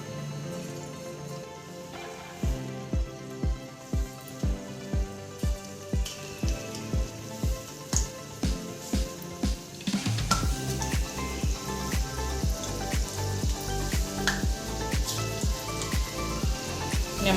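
Baby corn pakodi fry in hot oil with a steady crackling sizzle. Rhythmic pulsing music plays over it, and the bubbling grows denser and louder partway through.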